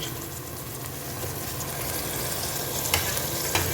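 Mutton pieces fry in oil for Ambur biryani, a continuous dense sizzle and bubbling heard up close, with a couple of light clicks of stirring near the end.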